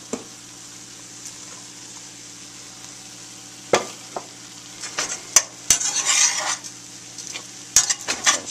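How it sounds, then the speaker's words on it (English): Corn and egg sautéing in a pan for fried rice: a quiet hum at first, then a spatula clatters against the pan with bursts of close sizzling and scraping as the mixture is stirred. "And I've got the corn and the egg sauteing."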